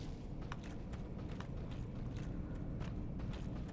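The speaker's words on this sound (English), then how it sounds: "hear footsteps of another Darkwraith" Armored Darkwraith enemy walking in Dark Souls, a faint run of irregular metallic clanks and thuds over a low rumbling background, steady for several seconds, with no talk.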